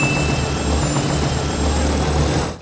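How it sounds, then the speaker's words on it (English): Steady, loud thrum of a military helicopter rotor and engine running close by, a continuous droning roar that cuts off abruptly at the end. "Will Smith decides that he wants to steal a helicopter to look for his fiancée."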